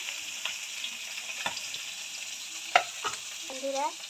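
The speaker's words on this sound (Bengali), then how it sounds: "মা আর একটা মাছ ভাজা করছে" Fish frying in a pan, a quiet continuous sizzle with scattered clicks and scrapes from a utensil, heard close up with no talking.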